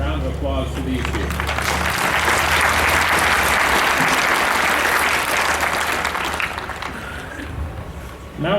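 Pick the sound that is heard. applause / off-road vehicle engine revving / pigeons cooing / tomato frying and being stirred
applause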